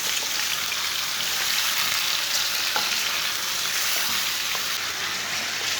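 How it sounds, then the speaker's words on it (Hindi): A kilo of goat mutton sizzles and fries in hot oil in a karahi, a steady, dense crackle with scattered pops, close and continuous throughout. "तीन मिनट तक मैंने गोश्त को फ्राई कर लिया"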